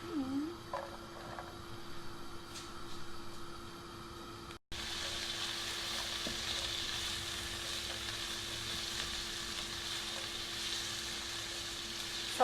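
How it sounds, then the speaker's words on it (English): Onions and garlic sauté in olive oil, giving a steady close sizzle that carries on with a brief break partway through, with an occasional stirring clink and a faint hum underneath. "So I just, saute them a little bit, just the onions and the garlic first."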